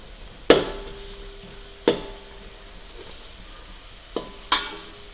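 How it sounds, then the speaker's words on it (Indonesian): Ingredients stir-fried in a pan for nasi liwet with teri and rendang jengkol, giving four sharp utensil knocks against the pan spread across a low, steady background hiss, with no voices. "Ini kita oseng-oseng dulu."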